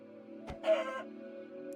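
A rooster in the Minecraft video game gives a short, moderately loud cluck midway through, over a steady low electronic hum, with a faint high blip near the end.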